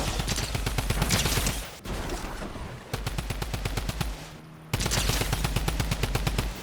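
Drum gun in the Fortnite video game fires long, rapid automatic bursts, loud and close, broken by brief pauses between sustained streams of shots.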